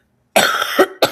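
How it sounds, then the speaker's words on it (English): A person coughs into their hand at home, two sharp close coughs with a short rough tail, loud against near silence. "I don't normally cough into my hand"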